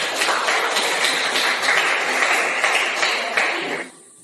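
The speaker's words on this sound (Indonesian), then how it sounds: "Oke, kita berikan tepuk tangan dulu." A class of students claps together after a lesson, steady even applause lasting nearly four seconds before stopping abruptly.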